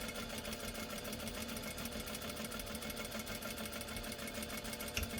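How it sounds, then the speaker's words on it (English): A sewing machine stitches a straight seam on a drawstring dice bag, its needle running in a fast, even, continuous mechanical chatter, close and steady throughout with no voices. "And we're just sewing straight down our line again."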